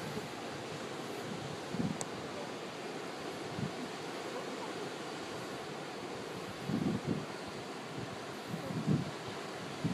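Sea waves near the Bang Boet sand dunes in Thailand wash in as a soft, distant surf, partly masked by strong gusts of wind buffeting the microphone.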